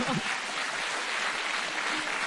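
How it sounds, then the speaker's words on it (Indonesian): Audience applause at a 2014 Indonesian presidential inauguration event, a steady broadband wash of clapping heard at moderate level throughout, with faint talk underneath. "Oh, tepuk tangan di Bapak Suparto."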